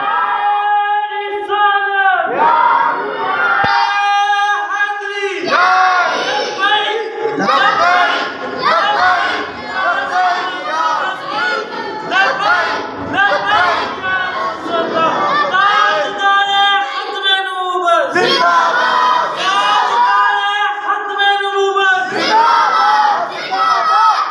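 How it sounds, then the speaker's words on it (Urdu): A large crowd at a religious gathering chants the slogan Allahu Akbar in loud, rhythmic bursts, with a leader's call and massed voices answering in repeated waves. "ایک زوردار نعرہ لگائے گا"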